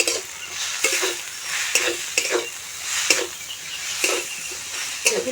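A filling of fried egg and potato sizzles in a pan as a spatula stirs it in a regular rhythm, one scraping stroke roughly every second, close and clear over the frying hiss.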